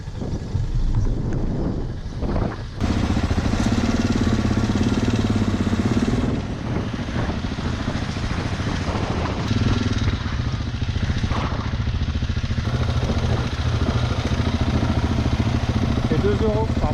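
Motorcycles on an adventure trail in the Balkans idle while waiting to board a ferry: a steady low engine rumble runs throughout, buffeted by wind noise, with a brief dip early on.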